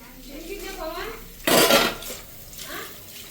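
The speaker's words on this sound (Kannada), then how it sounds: "ನಮ್ಮನೆ ಅನ್ಕೊಂಡು ಪಾತ್ರೆ ಬೆಳಗಾಗ ಹೋಗ್ತಿದ್ದೆ" Pots and metal vessels being scrubbed and rinsed under running water in a home kitchen, with a brief loud burst of clattering and splashing midway while a voice talks softly throughout.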